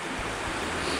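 Surf rolling onto a beach on Con Dao island in Vietnam, heard as a steady, loud wash of broadband noise with wind buffeting the microphone and no pauses.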